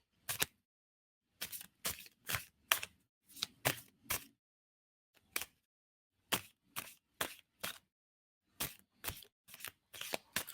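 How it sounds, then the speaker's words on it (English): Repeated crisp riffling bursts of tarot cards being shuffled, in quick clusters separated by short pauses, close and clear with no talking. "Tell me when to stop shuffling."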